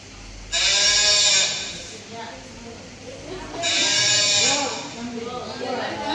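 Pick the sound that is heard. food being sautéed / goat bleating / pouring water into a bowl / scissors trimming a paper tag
goat bleating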